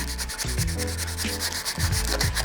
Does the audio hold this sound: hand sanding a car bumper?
yes